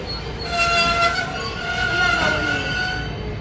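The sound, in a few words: Washington Metro Blue Line train arriving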